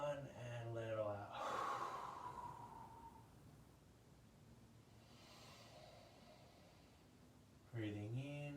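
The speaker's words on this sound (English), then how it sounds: "have a loud exhale out through the mouth" Loud, breathy exhale pushed out through the mouth during a yoga breathing exercise, a long rushing breath in a quiet room, with a voice guiding before and after it.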